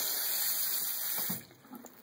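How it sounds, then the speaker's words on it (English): Faucet running hard onto a Canada Goose D'alpago bomber jacket, a steady close hiss of water that gives way to softer splashing and dripping. "Let's just turn on the faucet. So it's running pretty hard."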